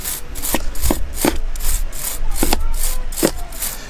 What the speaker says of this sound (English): now I'm just going to go around them with a brushes, get any remaining residue off them.